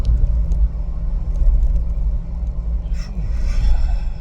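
A Jeep drives along a road with a steady low engine rumble and road noise heard from inside the cabin, plus a brief scrape near the end.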